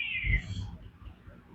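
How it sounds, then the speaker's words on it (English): A big shop cat in a knife-sharpening workshop gives a single short meow, fairly close but quiet, with low room noise underneath. "Big old shop cat."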